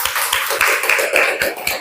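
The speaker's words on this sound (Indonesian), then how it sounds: "mari kita beri tepuk tangan dulu untuk kita bersama" A crowd applauds during a teacher training session, steady overlapping hand clapping with sharp individual claps audible, sustained and fairly loud throughout.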